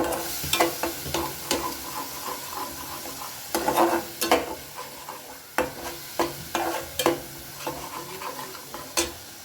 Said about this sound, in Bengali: এটা দিয়েও খুব ভালোভাবে এবার আমি মশলার সাথে মিশিয়ে